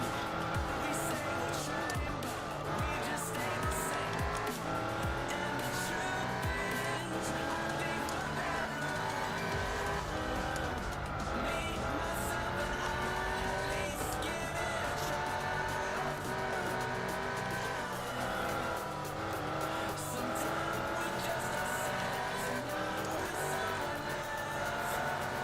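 Race cars including an RX-7 and an NSX in Gran Turismo 4 drone continuously with rising and falling engine revs, gear shifts and tire squeal, loud and unbroken for the whole stretch.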